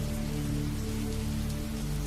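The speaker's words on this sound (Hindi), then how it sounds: "एक बारिश की रात, तेज बारिश।" Heavy rain pours steadily through a stormy night, a dense continuous hiss of drops on surfaces with no voices, loud and close throughout.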